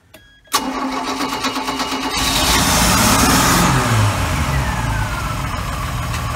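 A 4.3 OMC Cobra engine in a 1990 Four Winns 180 Horizon boat cranks with a sharp click and whir, then catches and roars up to a loud, steady run.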